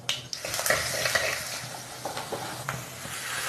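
Onion, curry leaves and mustard seeds sizzle and crackle in hot coconut oil, with steady frying hiss and intermittent scraping of a spoon stirring the pan up close.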